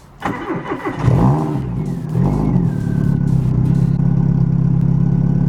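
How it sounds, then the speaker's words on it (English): A car engine cranks and fires after a head gasket repair: a short sputtering crank, a rev, then a steady close idle that holds loud and even. "That actually started better than it did when it didn't have the head gasket on."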